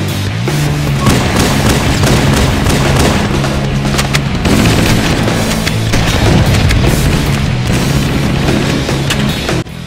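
M90 pump shotgun from Halo Combat Evolved firing repeatedly, loud booming blasts in a slow steady rhythm with mechanical pump sounds between shots, dense and close.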